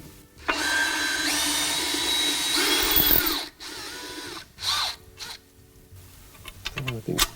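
A power drill whirs close by for about three seconds during GM 6L80 transmission center support work, then runs again in short, quieter bursts among clanks and handling noises.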